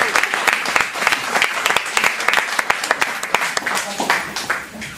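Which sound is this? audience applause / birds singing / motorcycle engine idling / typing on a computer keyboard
audience applause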